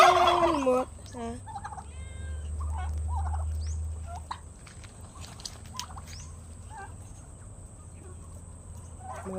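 Pet turkeys in a garden give a loud gobble at the start, then scattered fainter bird calls and clucks follow over a low background hum.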